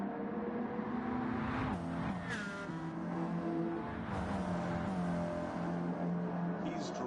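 Race cars in Gran Turismo 7 accelerate off the line at a Daytona Beach CASCAR Cup Series start, with engine tones rising and shifting as several cars pull away under steady background noise.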